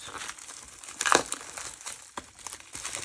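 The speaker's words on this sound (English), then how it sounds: "To unwrap all of these, and that blue saran wrap really sticks good." Blue plastic cling wrap crinkles and tears as it is peeled off an ink bottle, with one sharp loud rip followed by softer close crackling and rustles.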